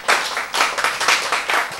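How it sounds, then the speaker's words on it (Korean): A church audience claps in a brief, dense burst of applause, loud and close, with no voices over it. "박수."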